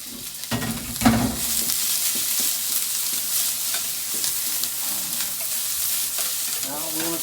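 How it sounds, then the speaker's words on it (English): Beef and vegetables stir frying in a hot pan, a steady broadband sizzle with scraping and stirring clatter, one louder clank early on, no voices. "Now we're going to stir fry this"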